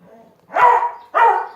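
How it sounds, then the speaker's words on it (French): Two loud, close dog barks, one after the other with a short gap between them. "arrête d'aboyer"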